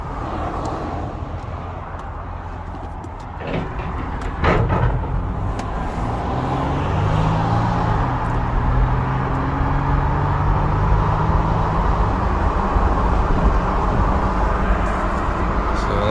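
A Toyota 4Runner drives along a road, a steady low rumble of engine and tyre noise that swells after a few seconds, with a brief clattering thump early on and faint engine tones rising beneath.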